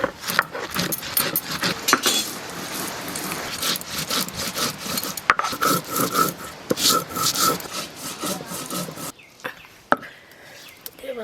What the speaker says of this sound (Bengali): ধনে জিরে একসঙ্গে বেটে দেবো।